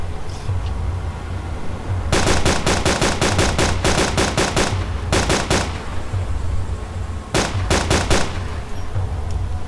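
Rapid automatic gunfire from the DayZ video game, fired at zombies, arrives in loud bursts of tightly spaced shots with short pauses between volleys, set over a steady background rumble.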